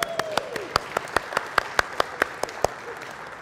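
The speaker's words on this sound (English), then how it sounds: "Let's give him a round of applause." Sparse audience applause at a tech conference talk, a handful of distinct, evenly spaced claps ringing out in a quiet hall rather than a full ovation.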